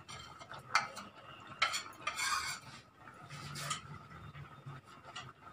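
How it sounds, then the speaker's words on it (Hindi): A spoon stirs fried dry fruits into a pot of thick fresh coconut kheer, producing soft scraping strokes and light clinks in uneven bursts, close and fairly quiet. "अब ये जो फ्राई किए थे हमने ड्राई फ्रूट्स वो इसमें मिक्स कर देते हैं।"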